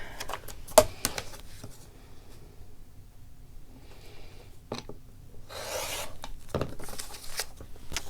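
Fabric being cut along a ruler, heard as quiet rubbing and rasping scissor strokes with a few sharper snips and clicks. The sounds are close and soft and come irregularly, with no talking.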